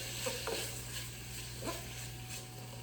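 Onions and ground beef sautéing together in a pan for potato moussaka, a faint steady sizzle with occasional spatula scrapes and stirs.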